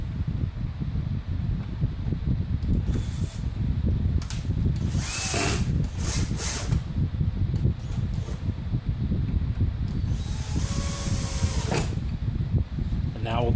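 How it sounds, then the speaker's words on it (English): A power drill whirs continuously into wood, with brief higher whines as the bit speeds up, loud and close throughout. "and go ahead and drill."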